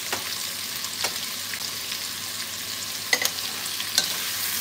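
Salchichón slices stir-fried in oil give a steady, close sizzle with a few scraping stirs of the pan, the sharpest two coming near the end.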